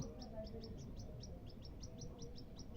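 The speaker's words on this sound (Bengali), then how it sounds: "তো পাখিটা খুব চেঁচাচ্ছে।" A small baby bird in a cage chirps in rapid, evenly spaced high tweets, repeating continuously at a moderate distance over a low background rumble.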